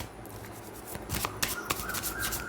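A traditional tarot deck is shuffled by hand, producing a quick series of riffling and snapping card sounds, close and fairly quiet.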